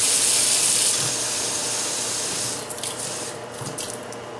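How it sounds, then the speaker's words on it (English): Water is poured into a crock pot for chili, a continuous loud splashing rush that eases off into lighter drips and trickles near the end. "So next I'm going to put in a small amount of water"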